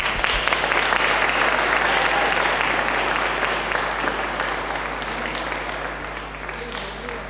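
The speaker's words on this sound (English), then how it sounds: "Please welcome them with a round of applause." An audience applauds young ballerinas at a ballet performance, with dense, sustained clapping at full strength that slowly tapers slightly over several seconds.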